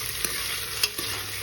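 Brinjal slices sautéing in oil in a pan for sambar give a steady, close sizzle with a few soft stirring knocks, and no voices.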